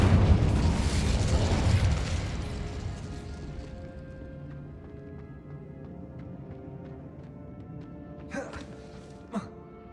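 Incendio fire spell cast in the game Hogwarts Legacy: a loud burst of fiery roar up front that fades over a few seconds into a quieter rumble, with two small pops near the end.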